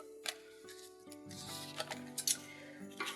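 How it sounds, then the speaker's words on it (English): Cutting scissors snip paper for a traveler's notebook journal, a few crisp, faint, close clicks spaced out over a soft tonal background. "Let's get my cutting scissors."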